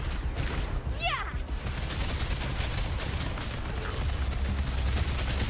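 Rapid gunfire from combat in the Wuthering Waves video game, a dense continuous barrage with bursts mixed into game noise and music throughout.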